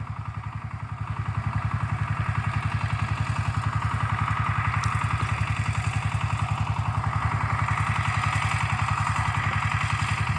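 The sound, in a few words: walk-behind tractor engine running in a garden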